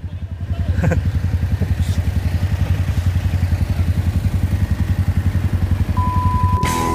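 A motorcycle engine putters loudly and close by on a rock road in Baguio City, Philippines, its rapid pulsing exhaust holding steady as it passes.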